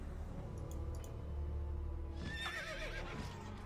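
A horse-like unit in the fantasy strategy game Disciples 2 gives a clear whinnying neigh in the second half over a steady game soundtrack, with small clicks earlier and no talking.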